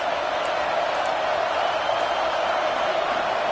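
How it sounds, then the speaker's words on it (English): Stadium crowd noise in an NCAA football video game, a dense, steady roar that is loud and unbroken throughout, with faint commentary mixed in beneath it. "This crowd trying to make life miserable for this offense."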